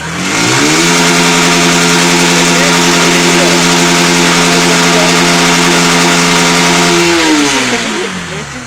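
A Yamaha YBR 125 motorcycle engine revs hard at full throttle in neutral, climbing quickly and holding a loud, steady high-rpm drone against the rev limiter for several seconds before dropping back, close and alone.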